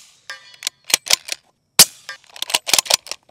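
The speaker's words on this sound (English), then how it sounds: "So we're gonna be shooting 288 grain fracturing subsonic rounds from Guerrilla." A Gorilla Firearms 8.6 Blackout bolt-action rifle fires 288 grain fracturing subsonic rounds outdoors. Sharp, close cracks and clacks come in an irregular cluster with short quiet gaps between them, and no one speaks.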